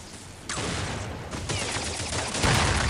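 Bursts of gunfire in Counter-Strike, a shotgun among the weapons, crackle loudly in quick succession, with dense shots picking up again near the end and no voices over them.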